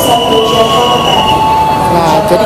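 A train at Pasar Senen railway station in Jakarta during the Lebaran homecoming rush, a loud steady rumble with sustained high wheel squeal and tonal whine running throughout, close by.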